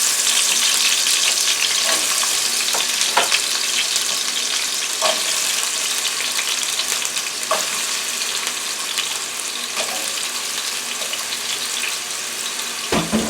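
Two cut-up white potatoes frying in a pan, a loud, steady hiss of hot oil lasting the whole stretch, broken by occasional clicks and knocks of utensils.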